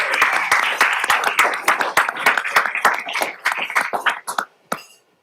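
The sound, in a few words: city council audience applauding athletes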